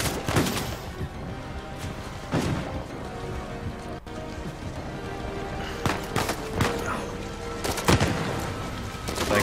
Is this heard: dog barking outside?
no